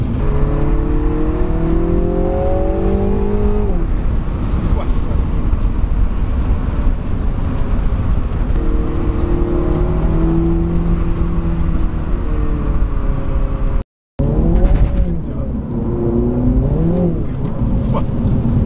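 Mini John Cooper Works GP 2020 engine droning loudly from inside the cabin, with rising and falling revs, gearshifts from the paddle-shift gearbox, and a brief dropout before acceleration resumes.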